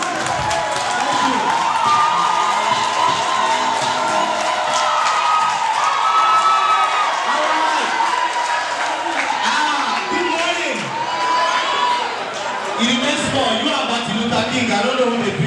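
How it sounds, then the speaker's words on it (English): A crowd at the Eleganzza All White Party 2013 cheers, claps and shouts in a dense, continuous roar that swells and dips slightly, with voices mixed into the noise. "Please let's give you a round of applause."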